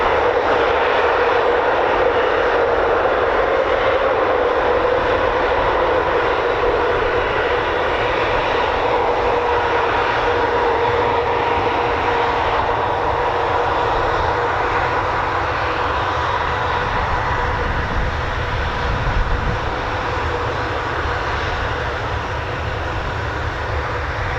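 Heavy aircraft jet engines at RAF Brize Norton, a steady loud roar that holds constant throughout, broad and continuous with no talk over it.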